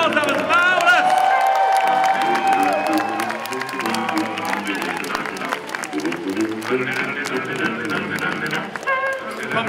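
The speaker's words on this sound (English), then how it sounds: "give yourselves a huge round of applause" Convention crowd at Dragon Con claps and cheers in a large hall, whoops rising over steady applause, with voices talking and calling out throughout.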